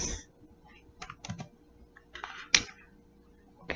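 Typing on a computer keyboard, irregular bursts of crisp key clicks with a few sharper taps, close and fairly quiet, no talking.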